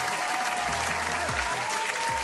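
A live stream event crowd applauding, a dense, steady wash of clapping that holds at an even loudness for the whole stretch.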